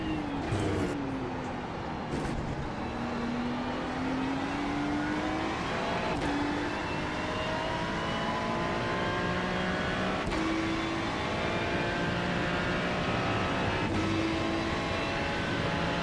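GT3 race car engines roar at Daytona in the iRacing sim, a steady high drone with rising and falling revs as gears shift, running continuously for the whole stretch with no talk over it.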